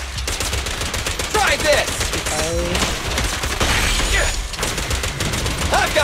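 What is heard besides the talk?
gunfire in video game Zenless Zone Zero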